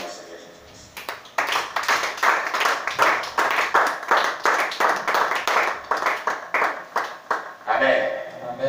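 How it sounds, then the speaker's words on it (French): A church congregation applauds at the close of a Sunday service, dense rhythmic clapping in steady pulses that swells and continues for several seconds, with voices mingling faintly underneath. "On acclame le Seigneur Jésus-Christ"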